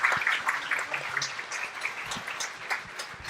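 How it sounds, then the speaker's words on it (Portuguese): Applause from the audience at a Brazilian panel debate marking Schizophrenia Day, a scattered patter of claps that stays fairly steady and moderately loud for a few seconds. "Uma salva de palmas."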